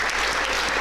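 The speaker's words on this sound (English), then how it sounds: "Round of applause from the crowd." A crowd applauds steadily at an Ireland U17 versus Isle of Man U17 netball game, a dense, continuous wash of clapping that fills the short moment without a break.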